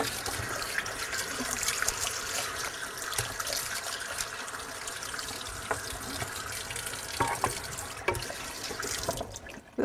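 Water runs from a backyard tap in a steady rinsing flow, splashing and trickling continuously at close range while something is washed off under it.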